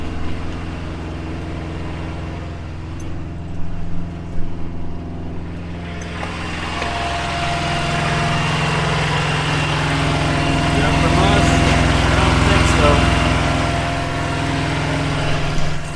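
A truck engine runs at a steady idle, a continuous low rumble that holds throughout and swells slightly in the second half, with a person talking over it.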